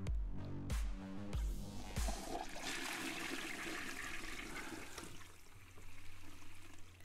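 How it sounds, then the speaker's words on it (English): Toilet flush played as a sound effect, opening with a few deep thuds and then a loud rushing swirl of water that drains and trickles away, with no talking. "And a toilet flush for good measure."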